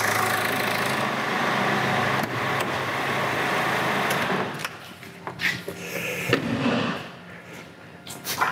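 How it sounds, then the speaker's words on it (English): A diesel car engine with common-rail Bosch injection idles with a rough, clattering knock, steady at first and then giving way to scattered clicks and knocks near the microphone. "engine running, nice diesel knock"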